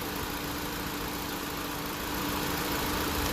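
A 2016 Honda Civic engine idles steadily with its AC compressor clutch engaged, making a close, constant mechanical hum and whir that grows slightly louder near the end, with no talk over it.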